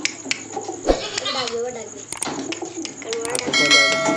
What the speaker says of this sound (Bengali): আর এই যে পয়রাটা কেমন ডাকছে এবার বুঝতে পারছো তো